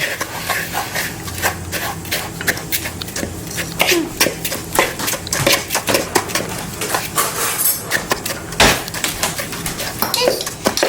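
Apple crisp mixture stirred in a bowl, a steady run of scraping clinks and knocks of a utensil against the bowl, with people talking and faint birdsong in the background.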